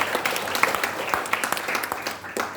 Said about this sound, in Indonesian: Tepuk tangan buat Tuhan Yesus.